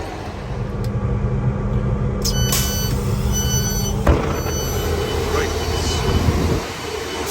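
A Northern passenger train at Cottingley station rumbles steadily nearby with a high metallic whine and clatter, a sharp knock midway, then the noise eases as it moves off.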